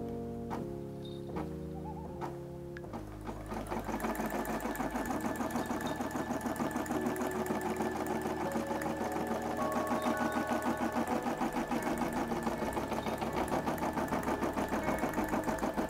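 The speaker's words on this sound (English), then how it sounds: "now I'm gonna press embroider and it's gonna start." A DTG embroidery machine starts stitching after a few clicks and beeps, settling into a steady, fast mechanical chatter that runs loud and close for over ten seconds with no talking.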